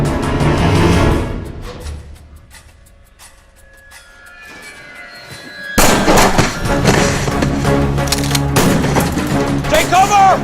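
Gunfire bursts out in a horror film shootout, loud dense cracks and booms starting mid-clip after a quieter tense stretch, with voices and score mixed beneath.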